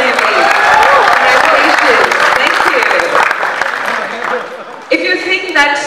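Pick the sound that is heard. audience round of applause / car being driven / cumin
audience round of applause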